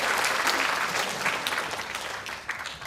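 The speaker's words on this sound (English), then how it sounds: "Give him a round of applause." A conference workshop audience applauds steadily, with dense overlapping claps close by that stay loud before thinning slightly toward the end.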